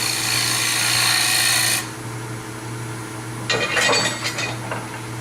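A spindle gouge cuts a dovetail tenon on a wood bowl blank spinning on a lathe, giving a loud, steady scraping rush that stops abruptly, leaving the motor hum under a few short, scratchy touches of the tool.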